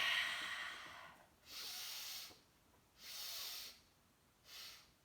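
Slow, steady yogic exhalations through the nose during a breathing practice, three long airy breaths alternating with quiet pauses, close and soft with no talk.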